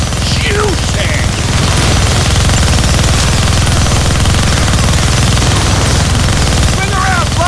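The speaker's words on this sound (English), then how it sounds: "You're gonna need both hands to shoot that minigun." A minigun fires nonstop in the Deadpool video game during a helicopter sequence, a loud, dense roar of gunfire that holds for the whole stretch with little letup.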